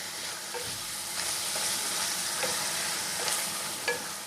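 Onion-garlic masala, chilli powder and cumin powder sauté in oil for a chickpea and potato curry, giving a continuous moderate sizzle with occasional spatula scrapes and light clinks, close and without voices.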